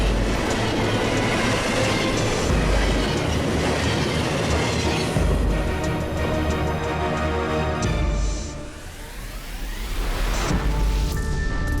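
A train rumbles loudly past up close, with dense clattering wheels and rail noise throughout and a squealing, shifting tone as it moves on.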